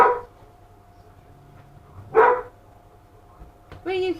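A farm dog gives a couple of short barks with a quiet stretch between them, followed by a higher yelping bark at the end, all fairly near in a quiet room.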